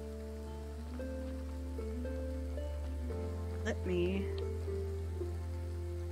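Heavy rain falls steadily in the Graveyard Keeper video game, a constant wash beneath sustained game music tones, with someone speaking briefly partway through.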